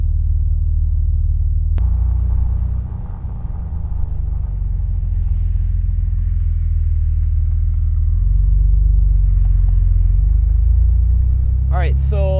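A manual transmission car driving up a driveway, heard as a steady, loud low engine rumble from inside the cabin with slight shifts in pitch as it moves, ending with a brief squeak.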